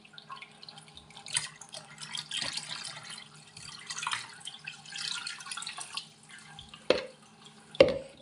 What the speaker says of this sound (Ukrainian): І вливаю в загальну систему.